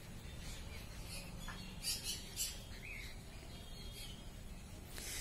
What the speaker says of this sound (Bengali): এবারে বদ্রি পাখি দেখতে পাচ্ছেন